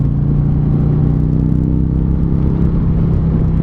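A Harley-Davidson cruiser motorcycle engine while riding, a loud, steady low rumble with a throbbing harmonic drone that stays constant throughout, no voices over it.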